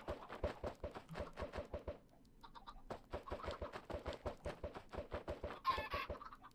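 Many Minecraft chickens hatched from eggs cluck in a rapid, regular series of short, clipped calls with a brief pause midway, then resume densely.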